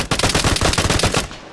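Rapid automatic gunfire in a Rust video game shootout, loud dense bursts of shots rattling continuously for over a second before cutting off abruptly, no voices.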